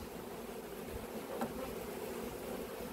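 Honeybees fanning at a colony built inside a cupboard make a continuous low buzzing hum, steady and close, with no speech.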